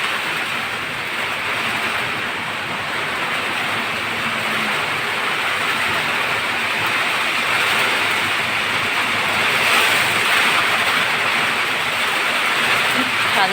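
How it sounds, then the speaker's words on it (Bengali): A morning rain storm with wind that bends the trees, a steady broadband roar of heavy rainfall and gusts that continues without a break at an even, loud level. "সকালবেলা বৃষ্টি, সবাই ঘুমাচ্ছে। বৃষ্টির দিন খিচুড়ি খেতে খুব মজা।"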